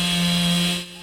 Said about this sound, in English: The chainsaw comes out,